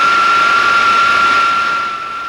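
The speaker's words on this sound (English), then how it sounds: "Generator rotor or fan rub is similar to magnetic noise." Generator rotor or fan rub in a vehicle accessory drive gives off a loud, steady, pure whining tone over a broad engine hiss, holding evenly before easing slightly in level near the end.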